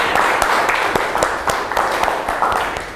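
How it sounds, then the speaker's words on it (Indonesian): A classroom of students claps together in a quick, even rhythm, the sharp beats repeating steadily at close range for a few seconds, with no one speaking over them. "Tepuk tangan dulu untuk semuanya sudah berpendapat."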